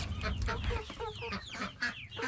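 Excited chickens waiting to be fed cluck in quick, overlapping bursts close by, a busy flock chattering with no voices.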